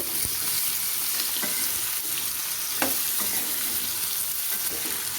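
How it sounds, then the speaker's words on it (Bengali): Potatoes fry in a pan with a steady, fairly loud sizzle while a utensil stirs them, scraping in a few brief strokes across the pan with no talking. "এরপর দিয়ে দেব আলু আলুটাকে আমি ভালো করে ভেজে নেব"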